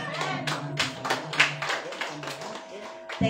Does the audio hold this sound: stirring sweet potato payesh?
no